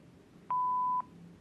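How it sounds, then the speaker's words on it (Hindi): A single clean voicemail beep tone on a phone line, a steady half-second electronic tone that rings out clearly over a quiet, faintly hissing line. "Please leave a message after the tone."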